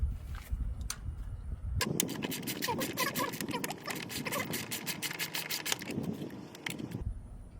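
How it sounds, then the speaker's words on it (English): Screws being removed to take out the battery on a BMW X give close scratchy, rapid ratcheting and scraping in the middle stretch, with quiet handling noise before and after. "let me work on removing those screws and then pull out the battery"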